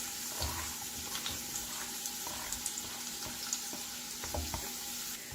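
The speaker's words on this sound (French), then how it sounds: "Je vais faire revenir l'oignon jusqu'à ce qu'il devienne translucide" Onion fries in oil in a non-stick pan, a continuous close crackle and hiss with scattered small pops and a few faint stirring scrapes, steady throughout.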